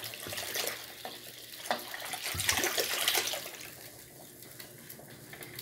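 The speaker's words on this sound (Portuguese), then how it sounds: "3 litros de suco de uva." Bottled grape juice being poured into a cooking pot for a hot spiced drink, a steady splashing and gurgling stream that swells in the middle and then tapers off, with no talking.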